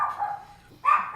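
A small dog gives two short, close barks indoors with a brief pause between them, no voices over them.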